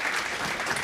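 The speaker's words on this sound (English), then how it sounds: "let's just give them a big round of applause" An audience at a tech conference claps in a steady, dense round of applause that fills the room, loud and continuous throughout the brief moment.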